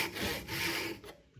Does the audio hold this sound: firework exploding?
no